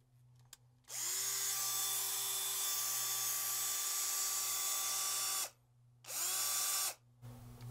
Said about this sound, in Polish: taka używana już wiertarko-wkrętarka marki Parkside